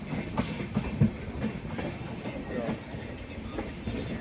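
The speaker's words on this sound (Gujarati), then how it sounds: "જો ટ્રેન વળે છે અમારી" Passenger train on a journey from Bhavnagar to Haridwar rumbling along the rails through a curve, steady wheel clatter with rhythmic clicks heard from inside a carriage while someone talks.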